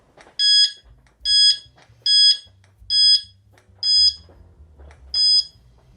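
An NGT VS fishing bite alarm sounds six short electronic beeps in a steady, evenly spaced series, loud and clear with a low hum underneath and no talking.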